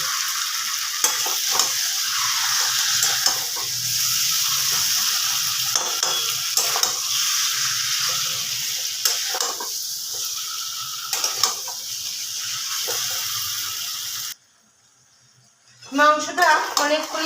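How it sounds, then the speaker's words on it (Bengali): Chicken kosha cooking with ghee and sugar in a pan, sizzling and frying steadily while a spatula scrapes and stirs, followed by a brief silence and then a clatter near the end. "এখন আমি মাংসটাকে কষবো"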